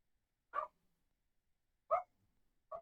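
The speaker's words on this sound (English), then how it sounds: "Sorry if you hear my dog barking in the background." A dog barks three times, short and spaced apart, somewhat distant and fairly quiet, with silence between barks.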